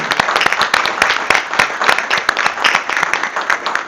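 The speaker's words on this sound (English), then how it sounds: "if we could also give a round of applause" A round of applause breaks out in a city council meeting room, many individual claps ringing out sharply and fairly close, a moderate-sized crowd clapping steadily and unevenly for the whole stretch.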